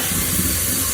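Washed rice hits a hot frying pan and gives a steady, close hiss and sizzle that holds for a moment with no talk over it.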